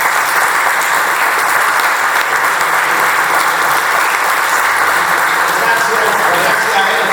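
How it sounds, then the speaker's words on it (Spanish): Steady, dense audience applause fills a library panel on Cuban improvised verse, loud and unbroken throughout with no voices standing out. "Así que un aplauso."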